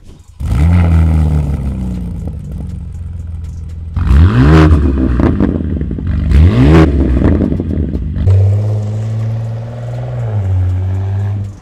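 A powerful 375 kW car engine cranks and fires, then gives two sharp revs that climb and fall before settling into a lower, steady idle. It is loud and close, with no talk over it.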